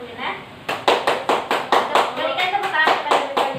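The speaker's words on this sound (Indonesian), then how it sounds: "Berikan tepuk tangan kepada Minta Madinah." A class of students in a fiqh lesson claps hands together in a quick, regular rhythm of sharp, close claps that start after a brief pause and continue to the end, with a faint voice underneath.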